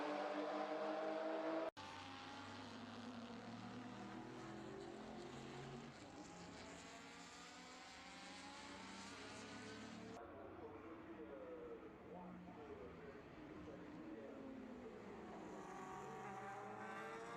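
Group C race cars, close to fifty of them, run on track at the Le Mans Classic, engines droning and rising and falling in pitch as cars pass one after another, with a brief cut partway through.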